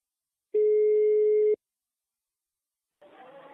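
A telephone rings for a prank call: a single steady electronic ring tone lasting about a second, then silence before a voice begins speaking.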